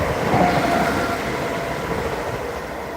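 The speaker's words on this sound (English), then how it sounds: "Two mail trains back to back, pretty much, with a pendo between them." A mail train on the West Coast Main Line rushes past in a steady, loud roar of wheels and rail noise, close and unbroken with no talk.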